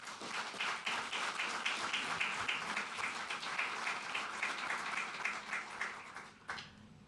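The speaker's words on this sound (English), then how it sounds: "a big round of applause for all of you" Round of applause from an audience at a NASA press briefing after award announcements, a steady dense patter of clapping throughout that fades near the end.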